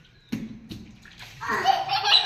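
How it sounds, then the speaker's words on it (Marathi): Small children jump and play in water outdoors on a sunny day, with soft thuds followed by building splashes and sloshing, and a voice faintly mixed in. "बघा कशी उड्या मारते पाण्यामध्ये।"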